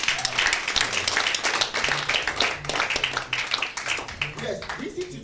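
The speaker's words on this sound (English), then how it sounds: "Please clap for me." An audience at a customer service and trade management institute event claps at a moderate level, the applause blending with talking and cheering voices throughout.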